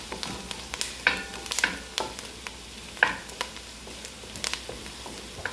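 Onions fry in a pan as a soft, close sizzle broken by irregular scraping and tapping stirs, with no talking.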